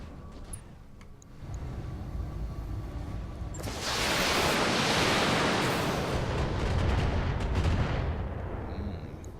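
Heavy mech weapon fire in the BattleTech game, a roaring wash of sustained blasts that swells loud and broad midway, rumbling on with a sharp onset and slow fade, no talk over it.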